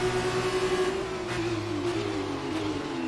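A racing car engine in the F1 2019 game screams at high revs, its pitch dropping in short stepped blips as it downshifts, loud and alone.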